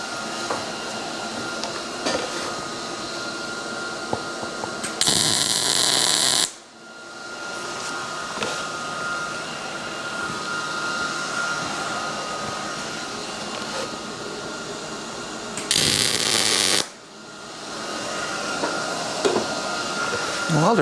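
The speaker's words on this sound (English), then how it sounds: "The welder's working well today too." A welder joins fender mounts to the frame of an XLCH chopper, giving a continuous buzzing hum broken by two short, louder bright bursts, with a brief pause between.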